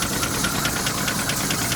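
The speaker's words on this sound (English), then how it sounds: "the knocking sound could be coming from this being open" Knocking from the 5.7 V8 engine of a 2004 Dodge Durango with overheating and coolant leak problems, a steady close rhythmic tapping over a loud running engine, heard without speech.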